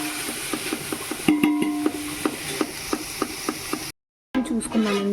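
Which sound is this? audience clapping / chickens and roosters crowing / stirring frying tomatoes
stirring frying tomatoes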